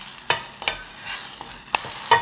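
Onions and ginger sweat gently in a pan, a soft steady sizzle broken by a few sharp scrapes and taps of a spoon stirring, close and fairly quiet, with no voices.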